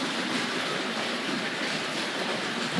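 A Tri-ang 00 gauge model train rattles steadily along its track, a continuous close, busy clatter with no gaps across the whole stretch.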